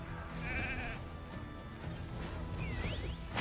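A sheep bleats in the RAID: Shadow Legends mobile game, a short wavering call over busy game music and combat effects, followed by sweeping whoosh sounds.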